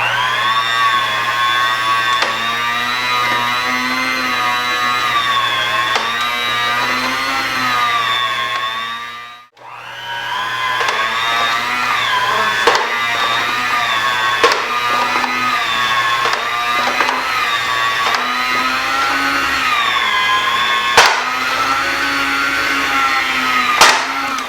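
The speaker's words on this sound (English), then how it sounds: "I'm going to see if we can start cutting this to 1/4 inch slices" Electric slicer or motorized blade cutting a stiff frozen pork loin into quarter-inch slices, a loud continuous whine that wavers in pitch and drops out briefly midway before resuming, with occasional sharp clicks and no voices.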